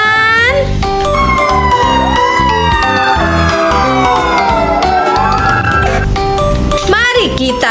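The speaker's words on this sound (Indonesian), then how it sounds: "Ada mobil pemadam kebakaran" Toy fire engine siren wailing continuously with rising and falling electronic tones over a busy, loud toy-play background, with a voice briefly heard near the end.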